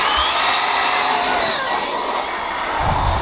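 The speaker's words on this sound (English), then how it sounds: "My son's out here messing around with his RC car." An Arma RC car, a fast hobby model built for around 65 mph, races nearby with a continuous buzzing electric whine that holds at a fairly steady level for the whole stretch.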